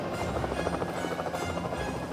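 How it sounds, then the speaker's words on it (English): A cartoon helicopter flies while carrying a heavy load, its rotor making a steady, dense chopping whir that holds at close range for about two seconds with no voices. "I love being a helicopter!"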